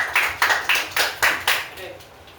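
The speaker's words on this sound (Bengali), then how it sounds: "হাততালি দাও" Children clapping hands at an exam prize-giving ceremony, a series of about six sharp, evenly spaced claps close by, fairly loud, with faint voices in the background.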